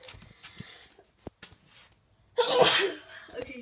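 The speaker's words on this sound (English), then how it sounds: "I don't want to sneeze on you guys." A single sharp sneeze bursts out close to the microphone after a few quiet breaths and small sounds.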